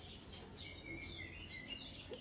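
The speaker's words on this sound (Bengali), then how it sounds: "পাখি আম গাছের মধ্যে উঠে বসে আছে এই সকালবেলা।" A bird sits in a mango tree in the morning and gives a couple of thin, high chirps over quiet outdoor background, fairly faint and somewhat distant.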